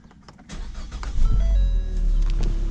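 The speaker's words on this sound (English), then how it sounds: "let's see if the car starts" A 2014 Ford Fusion with a 1.5L engine cranks and starts close by, a short crank rising into a running engine whose level swells and then holds steady, with no talk.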